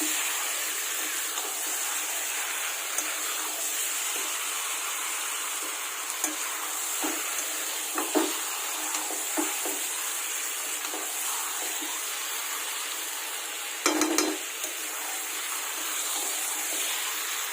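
Masala spices sautéed in a pan before chicken goes in, giving a steady close sizzle with soft intermittent scraping and stirring clatter throughout, plus a brief louder clatter near the end.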